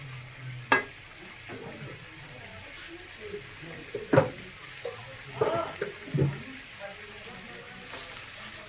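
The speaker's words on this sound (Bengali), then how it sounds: "এই সময় আমরা একটু জল দিয়ে নেবো যাতে মশলাগুলো এঁচোড়ের সঙ্গে ভালোভাবে লেগে যায়।" Water is splashed into spiced young jackfruit sizzling in a pan for a Bengali echor kalia, bringing short bursts of hissing and spattering over a soft, steady sizzle, close by and fairly quiet, with a voice speaking at times.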